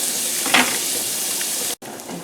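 Onions for liver and onions fry in a pan with a steady sizzle as a utensil scrapes the bottom, a brief scrape standing out near the start before a short drop to silence, then the sizzle resumes.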